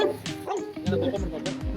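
An angry dog gives short, sharp barks and yips in quick bursts, close and loud, mixed with whimpering and heard together with people talking nearby.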